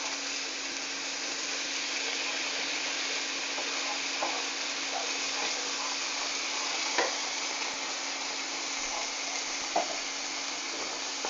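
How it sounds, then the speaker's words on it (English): A sieved Italian tomato mixture is stirred in a hot pan, giving a steady soft sizzle with a few faint spoon scrapes and taps throughout. "So we're going to mix all that in."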